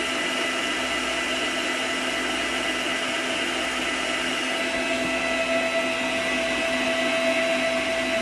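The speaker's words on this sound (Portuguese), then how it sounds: "Desligar para falar, acho que não dá para escutar direito, né, com a batedeira." An electric stand mixer beats cake batter with a loud, steady whirring drone and a constant motor whine, with no pauses.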